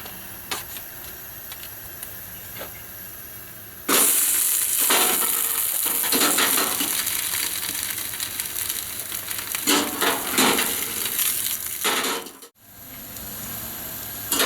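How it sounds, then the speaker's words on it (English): A small piece of Spam fries in a little pan, giving a quiet background sizzle that swells into a steady, loud hiss partway through, with brief scraping stirs and a short drop near the end. "We're only cooking a little tiny piece of Spam"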